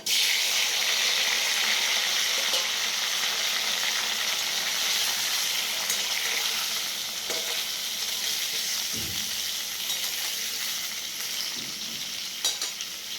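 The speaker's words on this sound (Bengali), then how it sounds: "আমি কড়াইয়ে তেল দিয়ে তেলটাকে গরম করতে দিয়ে দিয়েছি, আর এই ফোড়নগুলো নিয়ে এর মধ্যে দিয়ে দিচ্ছি" Boiled potatoes and whole tempering spices fry in hot oil in a wok, making a loud, continuous sizzle with occasional stirring knocks and no talk.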